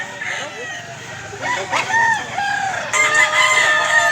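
Roosters crow repeatedly in rising and falling calls, fairly close, with clucking and a busy outdoor background at a market in Mantalungon, Cebu.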